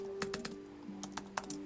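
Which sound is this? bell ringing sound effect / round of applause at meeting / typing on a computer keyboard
typing on a computer keyboard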